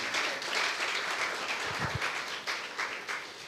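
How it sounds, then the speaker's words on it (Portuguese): Congregation in a church service applauding in praise, a steady wash of many hands clapping at moderate volume with a few low thumps, no speech over it. "Palmas ao Rei dos Reis, Jesus."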